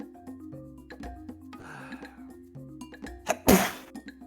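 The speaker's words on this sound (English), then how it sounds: "I tried to mute and I sneezed in my finger" A single loud sneeze bursts close to the microphone near the end, partly muffled, after quieter rustling and background tones during an online tabletop role-playing session.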